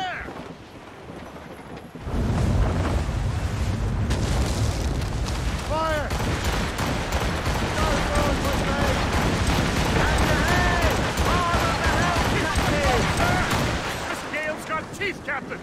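Mortar fire from a sailing warship in Assassin's Creed Rogue, heavy booming blasts and rumbling over a continuous roar of sea battle, with shouted crew voices under the din throughout.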